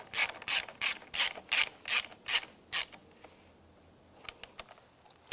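A ratchet wrench snugs down bolts on a 1999-2005 Volkswagen Jetta power distribution fuse block, giving about ten loud, close, evenly spaced clicking bursts, then a few fainter isolated clicks in a quiet background.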